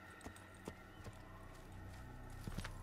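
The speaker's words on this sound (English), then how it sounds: "where's my horse? There's my horse." Horse hooves clip-clop in Assassin's Creed on the road toward Damascus, a few quiet uneven steps at a distance under low ambient game sound.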